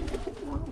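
Birmingham Roller pigeons coo softly inside their loft, making low, warbling throaty murmurs close by, brief and continuous, with no voices over them.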